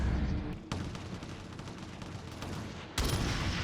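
Gunfire in the 2007 shooter game Shadowrun: a dense burst of rapid shots, a dip into softer firing, then another sharp loud burst near the end, with no talk.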